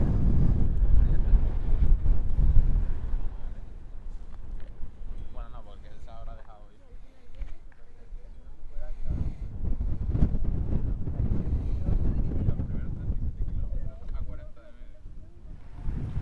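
Strong wind howls and buffets the microphone at the Ironman Lanzarote race, a loud, continuous low roar that swells in gusts, eases midway, then surges again, with faint voices occasionally in the background.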